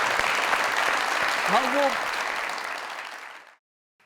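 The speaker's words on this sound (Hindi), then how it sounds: "जोरदार तालियां" A studio audience applauds on a live comedy show, a broad wash of clapping that holds steady and then fades out, with a voice briefly speaking over it.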